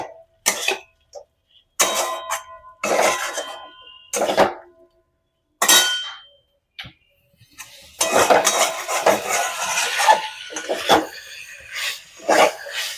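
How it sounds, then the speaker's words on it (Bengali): A spoon scrapes and clinks in bursts against a metal pan as chicken is stirred with crushed kasuri methi, irregular close clattering separated by brief silences. "এবার একটু নেড়ে নেব।"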